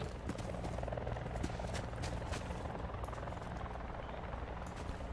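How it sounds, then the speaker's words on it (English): Helicopter rotor chop in the Call of Duty Black Ops 4 battle royale, a steady dense thrumming beat with some scattered game noise and faint distant sounds layered over it, filling the whole stretch at an even level. "Somebody over here shooting at the chopper."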